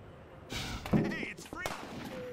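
Sniper gunfire in the video game Half-Life 2: a couple of sharp, loud shots about a second apart, with game effects ringing after them.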